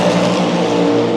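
A race car passes close by during the WEC Prologue in Qatar, a loud, sustained engine roar with a steady harmonic tone across the whole short moment, no talking over it.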